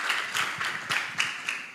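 An audience at a conference claps briefly for a speaker, with moderately dense, fairly close applause.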